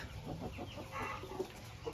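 Chickens cluck in a poultry enclosure with soft, overlapping calls and a couple of sharper clucks rising near the end, under steady low background noise.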